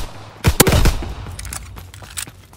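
Strafing fire from an inbound fighter plane in Call of Duty: WWII, a burst of loud, rapid gunshots up close followed by scattered, fainter shots and battle noise trailing off.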